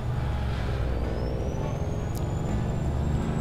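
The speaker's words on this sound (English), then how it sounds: "this truck sounds just as good as the other one" A heavy truck engine rumbles steadily and deeply nearby, with a faint rising whine above the drone.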